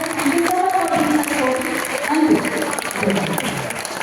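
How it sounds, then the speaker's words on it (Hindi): A school audience claps steadily through a stress-management talk at Vivekananda English School in Partur. The applause is a continuous wash of clapping, with a voice speaking over it. "एक जोरदार ताली हो जाए"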